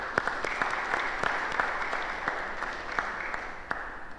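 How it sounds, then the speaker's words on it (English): A meeting audience gives a round of applause, steady dense clapping throughout at moderate, fairly distant level with a few sharper individual claps standing out. "I ask you to give yourselves and join with me a round of applause."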